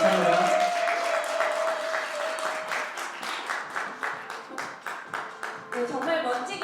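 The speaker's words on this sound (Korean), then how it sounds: "멋진 여행이 될 수 있도록 응원의 박수 부탁드리겠습니다" Applause from the audience at a Korean speaking concert, a crowd clapping in a hall; a busy wash of hands that settles into a more rhythmic, spaced clapping pattern, with a faint tonal sound under the start.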